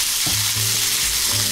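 Sausages sizzle loudly in a frying pan, a dense, continuous crackle up close, with low scraping stirs coming through underneath.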